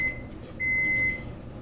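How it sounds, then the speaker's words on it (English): An oven gives two clean electronic beeps to signal it has preheated, one short and one longer, close and clear over a quiet room hum. "There goes my oven telling me it's ready."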